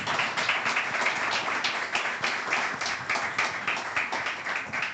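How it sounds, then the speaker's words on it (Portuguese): Studio audience at a televised debate on fuel prices and protests applauds the guests, a dense steady clapping that fills the whole stretch at a moderate level. "Aplausos para Isaac Paz"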